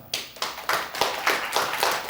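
Audience at a stand-up comedy show clapping in a brief burst of applause, a steady crackle of many hands that swells in waves, fairly close and without talk over it.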